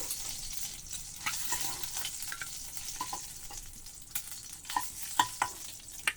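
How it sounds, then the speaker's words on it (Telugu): Dried small fish lightly frying in a pan, with a continuous close sizzle and scattered sharp pops and spatula scrapes that grow more frequent toward the end. "ఇది ఇప్పుడు కొంచెం లైట్గా ఫ్రై చేస్తున్నానండి ఇది ఎండు మెత్తల్ని"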